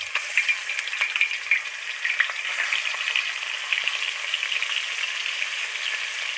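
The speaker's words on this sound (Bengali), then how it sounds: "আর একদিকে এই যে কড়াই বসিয়ে দিয়েছি, মাছটা ভেজে নেব।" Fish sizzles steadily in hot oil in a wok, a dense continuous crackle and hiss heard close up and alone, with faint stirring clicks.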